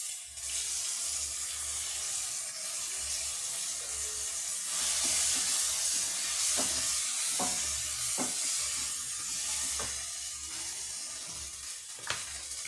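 Onions and tomatoes with chilli powder and garam masala frying in a pan, a steady loud sizzle that swells midway, with several sharp spoon taps and scrapes from stirring toward the end.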